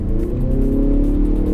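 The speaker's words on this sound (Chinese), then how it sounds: "然后听它这个发动机的声浪" A Mazda car's engine holds high revs while being driven on an elevated urban expressway in Guangzhou, giving a steady, loud, humming drone heard from inside the cabin with no speech.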